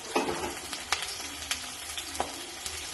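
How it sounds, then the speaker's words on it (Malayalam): Crushed shallots fry in hot oil for a fish curry with mango, making a soft continuous sizzle punctuated by a few sharp stirring taps, close and quiet with no speech. "ചതച്ച 3-4 ഉള്ളി ഇട്ട് കൊടുക്കുകയാണ്"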